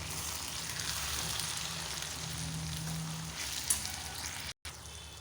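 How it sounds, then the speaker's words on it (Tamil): Chopped tomatoes sautéing with onions and potatoes in a pan for an onion potato gravy, producing a steady low sizzle broken by one faint click and a brief dropout, with no voices. "தக்காளி சேர்த்து நல்லா வதக்கணும்."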